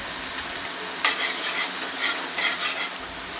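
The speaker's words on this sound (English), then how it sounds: "After mixing the masala we are going to fry for 5 more minutes." Vegetables and masala for pav bhaji fry on low to medium heat, a dense continuous sizzle with soft stirring scrapes, close and fairly loud.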